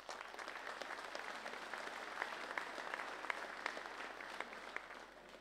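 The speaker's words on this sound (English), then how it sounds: "I'm sure you'll join with me in giving them a round of applause before." A crowd at a livestock mart in Ennis applauds the farmers, with faint, distant, steady clapping throughout.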